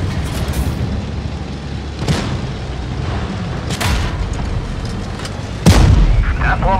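Tank cannon fire in World of Tanks Blitz, a series of loud booming shots over continuous rumbling battle noise, with a heavier impact near the end as a shell bounces off armor.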